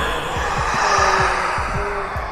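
A heartbeat in the Egyptian co-op horror game Forewarned: a steady run of soft, low thumps in quick succession under a constant airy hiss, with no voices.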